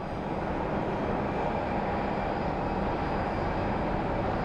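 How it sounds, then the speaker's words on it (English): A United Express airplane taxis at Sky Harbor International Airport, a steady broadband engine roar at moderate distance, continuous and even with no talk. "We have a United Express taxiing"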